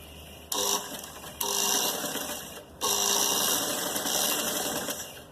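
A sewing machine stitches sleeve fabric for a kameez in three close bursts of rapid, whirring needle chatter, each starting abruptly after a brief pause and running for a second or more.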